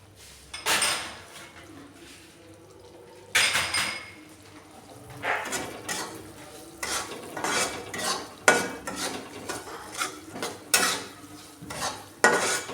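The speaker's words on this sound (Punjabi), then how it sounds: "ਗਿਰੀ ਜਿਹੜੀ ਆ ਉਹ ਵੀ ਆਪਾਂ ਨਾਲ ਹੀ ਪਾ ਦੇਣੀ ਆ ਕਿ ਚੰਗੀ ਤਰ੍ਹਾਂ ਵਿੱਚ ਭੁੱਜ ਜਾਣ" Dry fruits and nuts roasting in semolina for halwa, stirred with a metal spoon in a pan, giving repeated scraping and clinking strokes over a soft sizzle, close and fairly loud with no talk.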